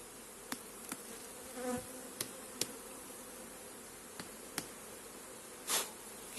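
Honeybees from a defensive colony buzz around an open hive during nest preparation for winter, a soft steady drone with a few brief louder passes as single bees fly close, and no speech.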